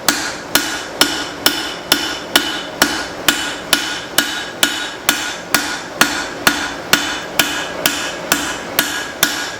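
Hammer forging a spring steel cleaver, about twenty sharp metallic strikes in a steady, evenly spaced rhythm, loud and close with a brief ring after each blow.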